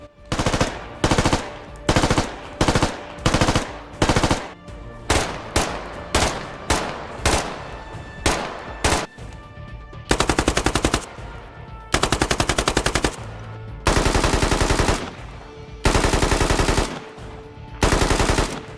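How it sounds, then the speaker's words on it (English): Rapid bursts of gunfire from several weapons in the video game Squad, single shots in quick rhythm followed by longer sustained automatic volleys, loud and close with brief pauses between. "now you can easily hear the distinct gunshot sound of different weapons"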